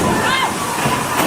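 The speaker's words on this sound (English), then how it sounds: "Point Cook shopping centre buckled under the weight of the water." Storm water gushes steadily through a collapsed ceiling at a shopping centre, a dense continuous roar of pouring and splashing water, loud and close, with a faint voice under it.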